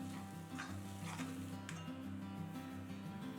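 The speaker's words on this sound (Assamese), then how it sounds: "এতিয়া মই ল' ফ্লেমত অলপ ভাজিম।" Turmeric powder, Kashmiri chilli and salt fry over a low flame in an iron kadai, a faint continuous sizzle with occasional light stirring scrapes beneath a steady tonal background.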